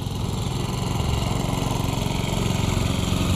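A lawn mower engine runs steadily and close by, a continuous low mechanical drone with a rapid pulsing beat and no voices over it.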